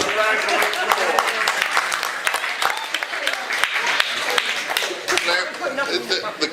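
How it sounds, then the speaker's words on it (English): Audience at a public meeting on saving the NHS breaks into a loud, sustained round of applause, with dense clapping, scattered laughter and chatter mixed in throughout. "So give yourself a round of applause."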